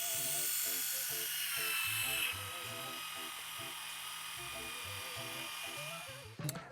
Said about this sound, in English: powering on the shaver and dunking it into the cleaning cup